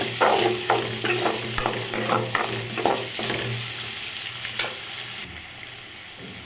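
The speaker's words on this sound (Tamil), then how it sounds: "வெங்காயத்தை பொன்னிறமாக வதக்கிக்கலாம்" Onions fry in a pan until golden, sizzling loudly at first with rhythmic stirring strokes, then settling into a quieter, softer crackle toward the end; no voices.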